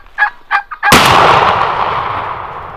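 A shotgun blast is fired at a wild turkey gobbler during a New York spring hunt, preceded by a few quick gobbling calls; the single loud shot rings out close and decays slowly.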